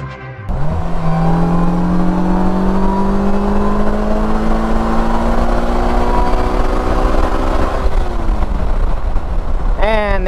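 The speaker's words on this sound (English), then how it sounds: "Alright, should we do a quick little acceleration run?" A 2020 Polaris Slingshot with E-Gear transmission pulls hard under acceleration, its engine note climbing steadily for several seconds before a gear change near the end; loud, close and continuous inside the cabin, with no talk.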